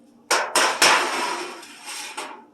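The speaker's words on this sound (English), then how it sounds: "I'm going to grab the cookie sheet so it collects any sauce." Several sharp metallic clanks and scrapes in quick succession as a metal cookie sheet is handled and slid into place at the bottom of an oven, loud and close.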